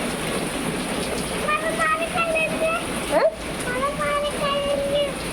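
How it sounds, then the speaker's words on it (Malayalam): Heavy rain pours down in a steady hiss with splashy water noise, while children's voices talk over it at close range. "ഭയങ്കര മഴ."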